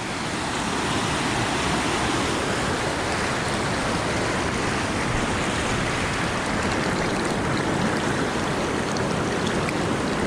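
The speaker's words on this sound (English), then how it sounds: "There's some rapids down here." Rapids on the Feather River in Plumas County rush steadily, a loud, close, continuous broadband roar of churning water with no break and no voices.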